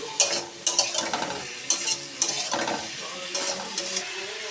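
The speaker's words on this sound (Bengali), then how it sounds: "এবার আমি সবজিগুলো দিয়ে দেবো একটু কমিয়ে কষিয়ে নেবো" Mixed vegetables are sautéed for a lentil dish, with loud rhythmic scraping and clatter from a spatula stirring in a pan over a continuous sizzle, close up and with no voices.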